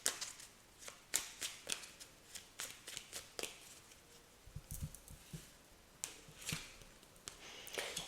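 A small deck of forest-themed oracle cards is shuffled by hand, giving a run of close, quiet papery slaps and riffles in an uneven rhythm with no speech.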